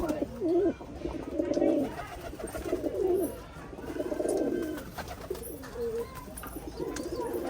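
Domestic pigeons kept as a hobby in Rajkot, Gujarat, coo in low, rolling, repeated phrases that run nearly unbroken and fairly close, with only faint background noise.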